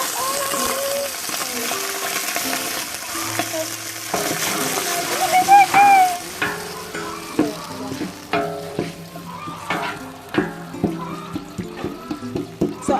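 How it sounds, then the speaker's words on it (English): Golden brown onions sizzle and fry in a pot for basmati pilau as water goes in, with stirring clatter and spoon knocks over a steady hiss, loud and close. "when your onions are this golden brown, that's when you put in the water"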